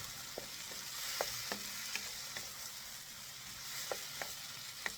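Tomato and other vegetables sautéing in a pan for pork adobo, a steady soft sizzle with regular light clicks and scrapes of stirring, heard close and without talk.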